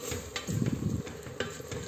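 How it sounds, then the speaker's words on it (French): Meat being stirred in a cooking pot with salt just added, giving soft scraping and clinking of a utensil against the pot over a faint sizzle, close and fairly quiet, with no talk. "je mélange un petit peu"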